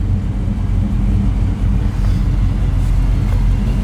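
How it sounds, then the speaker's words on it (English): A 1970 Chevelle with a V8 on dual four-barrel carburetors idles at about 650 RPM, a steady, loud, low rumble with no breaks. "So this one's idling about 650 RPM right now."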